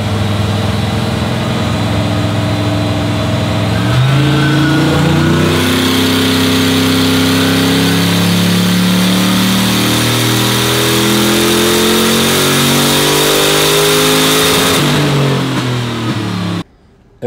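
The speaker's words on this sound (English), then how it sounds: "Chris is just warming the car up" A car warming up on a dyno revs loudly and steadily, its engine note climbing and falling in long sweeps for about sixteen seconds before cutting out abruptly.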